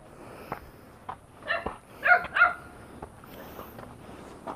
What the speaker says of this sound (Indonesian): kalau setiap ada orang asing, anjing itu pasti selalu menggonggong teman-teman